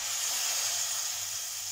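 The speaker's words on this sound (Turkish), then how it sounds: "Şimdi iri iri doğradığım sebzelerimi ilave edeceğim." Chopped vegetables sautéing in a pan with tomato paste for lentil soup, a steady close sizzling hiss that continues evenly throughout with no talk.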